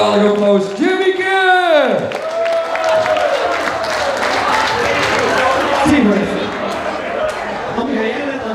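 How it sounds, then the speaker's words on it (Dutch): A party audience bursts into applause and cheering, a dense wash of clapping and crowd noise following a singer's sustained, swooping vocal at the start. "En een geweldig applaus."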